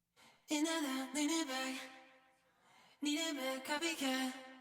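A verse vocal harmony in a pop/R&B mix, processed with Echo Boy delay for a spluttery effect, comes as two close sung phrases with stuttering, gritty repeats trailing off between them.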